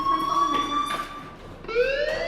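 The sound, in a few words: fire alarm from video game Life Is Strange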